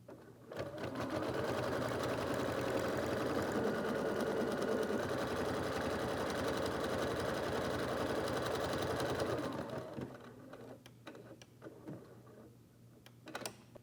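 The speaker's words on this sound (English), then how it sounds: "the machine will stitch out our first stitch sequence to create a placement line directly on your stabilizer" An embroidery machine stitches a placement line onto stabilizer, a steady rapid mechanical whirring and ticking that runs continuously for about nine seconds, then stops, leaving faint clicks and handling sounds.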